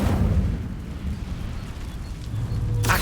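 An Incendio fire spell goes off in Hogwarts Legacy, a sustained roaring whoosh of flame lasting a few seconds with a sharper burst near the end.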